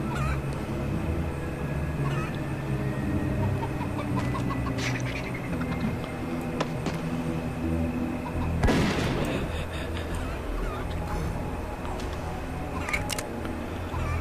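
Chickens cluck in the fantasy brawler game Zeno Clash, set within a dense, steady mix of game sounds with a sharp, loud burst about two-thirds of the way through.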